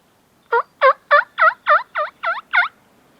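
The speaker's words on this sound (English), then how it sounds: "I'm gonna give him a little yelp," Wild turkey calling during a South Texas spring hunt, a series of eight loud, evenly spaced yelping notes, close and clear over a quiet outdoor background.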